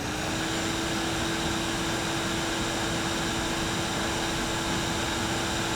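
A 200 watt cordless vacuum cleaner runs steadily with a constant whooshing airflow and a high motor whine, close and loud with no break.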